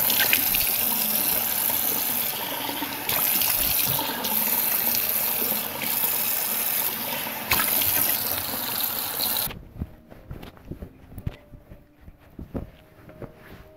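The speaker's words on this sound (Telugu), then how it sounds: "ఇప్పుడు నేను ఫేస్ వాష్ చేసుకుంటున్నానండి." Tap water gushes steadily into a sink during face washing, a continuous splashing rush broken by brief interruptions, then cuts off, leaving scattered drips and faint handling sounds.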